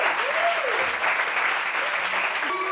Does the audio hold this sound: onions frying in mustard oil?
no